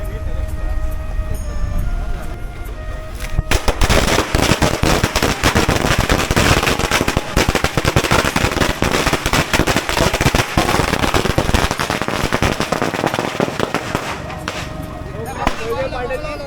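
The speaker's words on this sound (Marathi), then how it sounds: "तिथे आता फटाक्याची माळ लावून आम्ही आता बाप्पाचं स्वागत करणार आहोत" A long string of firecrackers crackles in a rapid, dense barrage of sharp bangs for about ten seconds, loud and close, with voices before and after, welcoming Ganpati during the Ganesh festival arrival procession.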